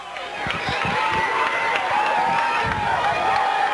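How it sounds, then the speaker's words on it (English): Lancaster fans at a 1990 state championship baseball game making steady, excited crowd noise from the stands, a continuous cheering hubbub with a voice talking over it. "the Lancaster crowd making a lot of noise over here to our right"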